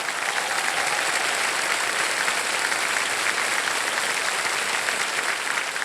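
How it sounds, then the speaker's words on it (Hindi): A TV studio audience on the quiz show Kaun Banega Crorepati applauds loudly and steadily, a dense, even roar of clapping with no talk over it. "तालियां बज जाए इनके लिए।"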